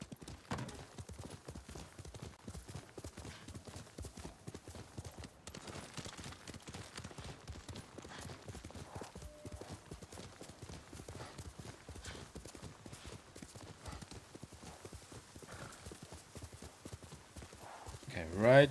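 Horse hooves galloping in the video game Ghost of Tsushima, a steady rapid clip-clop that runs throughout under continuous game noise, with talk over it and a brief whinny near the end.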